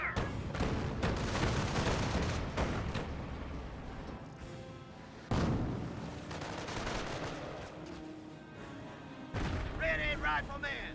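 Mortar and artillery fire in Company of Heroes 1, WWII battle with repeated sharp blasts, gunfire bursts and heavy impacts, moderately loud, under intermittent talk.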